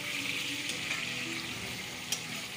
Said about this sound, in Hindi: अब इसके साथ ही हम ये चिकन को इसके अंदर डाल देंगे और इसको अच्छे से फ्राई करेंगे।